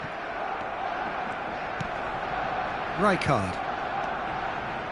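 Stadium crowd roar in an eFootball match, a low steady murmur that briefly swells into a cheer, heard under a commentator's voice.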